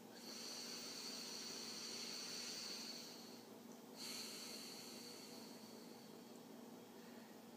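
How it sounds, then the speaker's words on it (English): A slow, deep human breath, drawn in long and airy and then released in a soft, steady, close-up rush of air, with no speech over it. "I want you to take a deep breath"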